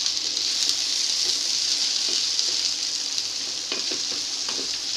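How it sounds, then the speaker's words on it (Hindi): Roughly chopped ginger, garlic and onion frying in a pan, a loud, even, hissing sizzle that runs unbroken from start to finish, close up, with a few faint stirring taps and no voices. "पहले अदरक लहसुन और प्याज को भून लेते हैं।"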